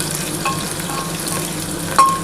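Bay leaf and whole garam masala frying in a pan for a chicken curry, with a steady sizzle and scraping stirs throughout, a couple of sharper spoon clinks standing out; no talking.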